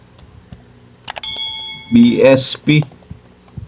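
Quick bursts of computer keyboard typing into a search box, close and clear, with a short beep and brief speech in between.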